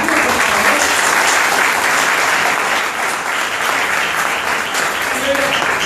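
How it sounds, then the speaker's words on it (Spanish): Audience applause at a DXN business gathering in Sincelejo, Colombia, a dense, steady roar of many hands clapping that holds loud and even for the whole stretch, with no voices breaking through. "Give her a round of applause."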